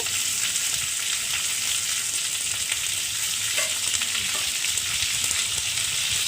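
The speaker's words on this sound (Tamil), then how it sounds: "2 பெரிய வெங்காயம் இந்த மாதிரி ஸ்லைஸ் பண்ணி சேர்த்துக்கோங்க. கூடவே ஒரு green capsicum சின்னசா கட் பண்ணி சேர்த்துக்கோங்க" Two sliced onions and a chopped green capsicum fry loudly in a pan, a dense continuous sizzle close up with faint stirring underneath.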